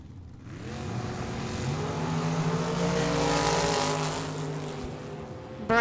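Gray drag racing dragster launching down the track at Tucson Dragway, its engine roaring up in pitch as it accelerates, loud and close, swelling to a peak and then fading as it pulls away.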